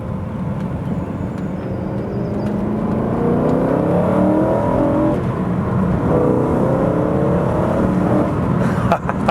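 A car fitted with a sports exhaust revs around 2000 RPM, giving a steady, loud, close engine drone with rising and falling harmonic sweeps and no voices.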